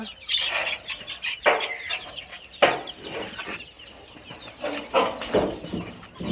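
Several farm hens cluck in repeated bursts, with higher peeps from month-old chicks between them and a brief flutter of wings, close by and with no talking.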